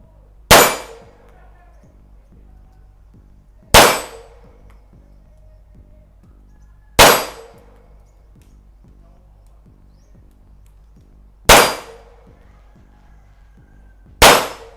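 Five sharp metallic clangs from Ruger Mark IV Target pistol shots striking a steel plate ring out at evenly spaced intervals, each loud crack-and-ring decaying quickly in an outdoor range.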